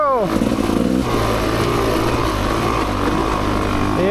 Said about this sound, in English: We're going to warm it up a little. But today, in today's video, we're riding the Rieju MRPro.